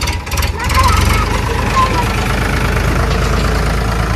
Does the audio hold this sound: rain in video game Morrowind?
no